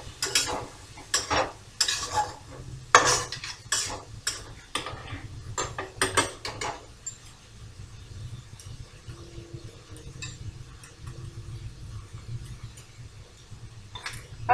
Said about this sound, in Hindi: फिर सभी सामग्री को अच्छी तरह से मिक्स करेंगे